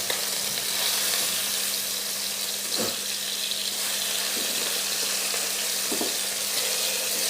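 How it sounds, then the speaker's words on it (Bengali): Pieces of catla fish fry in hot oil with a steady, close sizzle, broken by a couple of soft utensil knocks and stirring sounds. "আপনারা মাছটা ঠিক এইভাবে ভেজে নেবেন, তাহলে মাছটার স্বাদটা অনেকটা বেড়ে যাবে।"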